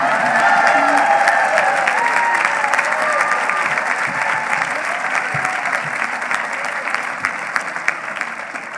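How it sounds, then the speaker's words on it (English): Sustained audience applause at the 2018 Vermont Law School commencement, a dense wash of clapping from a large crowd that fades slightly toward the end, with faint voices and a few light cheers underneath. "you can clap all the time"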